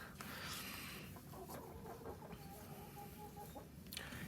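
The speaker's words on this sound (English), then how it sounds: "there's our chickens." Chickens cluck softly in the distance, quiet and intermittent over a steady background hiss.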